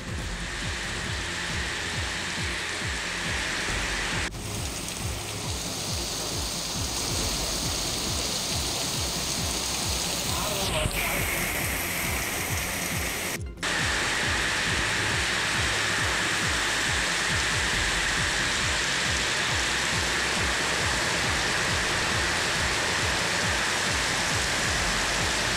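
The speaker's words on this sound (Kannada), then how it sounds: "ತುಮಕೂರು ಜಿಲ್ಲೆಯಲ್ಲಿ ಧಾರಾಕಾರ ಮಳೆಯಾಗಿದೆ." Heavy rain pours down in Tumakuru district, a steady, dense rushing hiss that holds without a break for the whole stretch, loud and close, with no voices.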